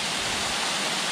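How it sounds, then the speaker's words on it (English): Water rushing in a steady, dense broadband roar, a mountain stream branch of the Gale River heard close by in the forest, with no voices. "I think this is a branch of the Gale River"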